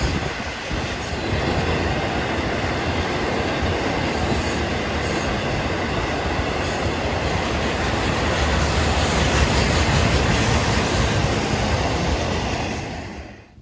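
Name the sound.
CN ore train with Dash 8 locomotives climbing steep grade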